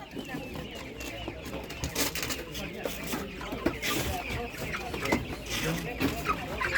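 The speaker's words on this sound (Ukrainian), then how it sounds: "Видно, яка курочка, який півник." Hens and roosters cluck and chatter steadily at a busy Saturday animal market, a dense layer of fowl calls with occasional louder squawks, mixed with people talking nearby.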